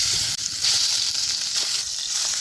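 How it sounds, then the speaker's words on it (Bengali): Chicken leg pieces coated in turmeric and salt fry in hot oil, giving a continuous close, loud sizzling hiss with no talk. "তৈলটা গরম হয়ে গেছে, হলুদ আর লবণ মাখাইনে চিকেনের লেগ পিসগুলো তৈলে দিয়ে দেবো।"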